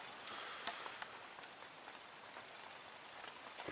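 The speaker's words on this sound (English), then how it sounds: "It's been raining for about 3 hours, which wasn't even on the forecast." Early morning rain, falling for hours, patters steadily and softly on a surface, a dense even hiss scattered with faint individual drops, with no voices.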